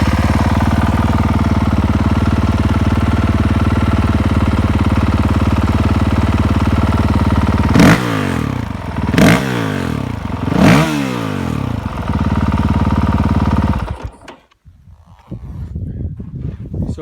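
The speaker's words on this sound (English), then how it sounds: "So I'll start the bike and you can hear it and see the map selector." A 2019 Honda CRF450X dirt bike with a Pro Circuit exhaust idles steadily up close, blipped through three sharp revs that rise and fall, then cuts off abruptly and leaves faint background noise.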